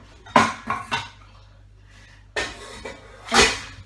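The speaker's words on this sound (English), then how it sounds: "Make some pans about, shall we?" Pans are handled in a home kitchen, with a few sharp metallic clanks and clatters in two short bursts separated by a quiet gap, close by and with no talking.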